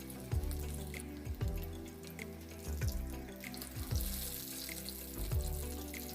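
Twist chicken snacks with potato fry in oil over a high flame, a steady loud sizzle broken by regular bubbling pops and rising spurts, with no one talking.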